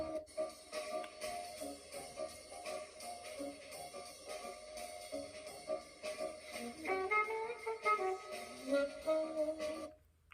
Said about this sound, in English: That melody is played on an alto saxophone.